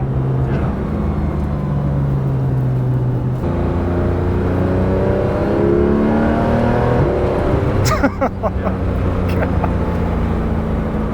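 A Porsche GT3 RS driven hard on a track, its engine loud and close, howling steadily with pitch climbing through the revs and abrupt gear shifts, continuous throughout.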